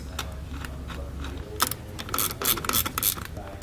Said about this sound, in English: then you can go back with your ratchet and finish snugging it down afterwards